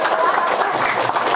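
An audience in a Kenyan-style seminar hall, here an Indonesian talk, bursts into steady applause, a dense wash of many hands clapping together with some crowd murmur underneath, sustained and fairly loud throughout.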